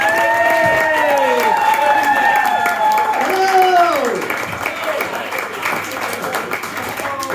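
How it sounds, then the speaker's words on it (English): A comedy club crowd in Wigston, Leicestershire claps and whoops to welcome a stand-up comedian, with loud shouts rising over steady applause that thins out after a few seconds. "Okay, Mick, let's have some clapping."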